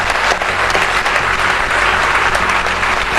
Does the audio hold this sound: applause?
yes